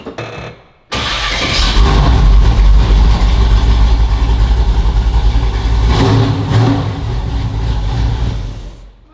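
A 1967 convertible with a high-performance built-up engine cranks and fires after a brief quiet moment, then roars loudly and revs up and down for several seconds before cutting off, heard up close indoors.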